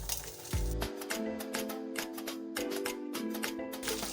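Hot oil sizzles steadily in a pan while pasta is cooked, with a brief clatter at the start and faint repeated clinks and stirring throughout.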